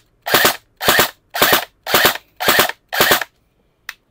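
Krytac Kriss Vector airsoft electric gun fired as two-round bursts, six sharp close cracks in evenly spaced pairs, then a faint final click.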